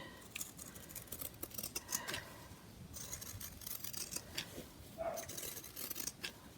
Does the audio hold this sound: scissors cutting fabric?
yes